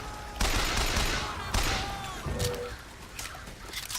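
Bursts of rapid gunfire from a carbine-like weapon in a retro 1999-era video game, two loud volleys followed by fainter scattered shots and game sound effects.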